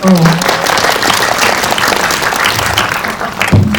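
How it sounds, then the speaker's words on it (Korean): An audience at a premiere screening and Q&A for a short-form drama breaks into loud, sustained applause, a dense wash of clapping hands that carries through the whole moment. "박수 드릴까요?"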